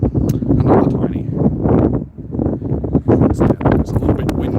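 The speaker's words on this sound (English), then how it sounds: "It's a little bit windy." Outdoor wind buffets the microphone in loud, irregular low rumbling gusts, mixed in with a voice talking close by.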